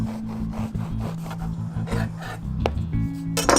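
A knife spreads butter across a brioche bun close up, making soft, rhythmic scraping and rubbing strokes with a brief sharper tap near the end.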